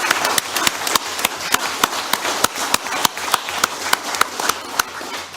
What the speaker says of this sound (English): one more time, I think a round of applause